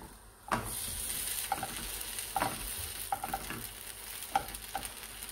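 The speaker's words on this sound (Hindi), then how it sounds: "उसको दूसरी साइड से भी हम फ्राई होने के लिए छोड़ देंगे" Custard-filled French toast frying in a pan, a steady sizzle broken by several clinks and scrapes as the slices are turned and pressed, close by with no talk.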